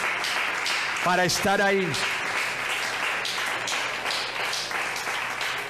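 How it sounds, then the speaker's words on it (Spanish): Church congregation applauding during a sermon, a steady spread of hand clapping filling the room while someone speaks briefly over it. "Dele ese aplauso mejor al Señor"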